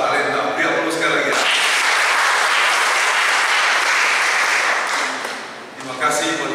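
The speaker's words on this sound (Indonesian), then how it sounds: "Beri aplaus sekali lagi." An indoor church congregation applauds a choir with a sustained, dense burst of clapping for several seconds, with a voice speaking before and after and the applause fading near the end.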